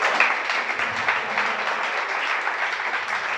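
Congregation applauding during a Shabbat sermon, a steady wash of many hands clapping at an even level for a few seconds, with no voices over it.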